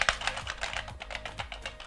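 Typing on the keyboard of a Matra Alice 90 home computer, rapid, fairly quiet plastic key clicks in an uneven stream, close up with no voices.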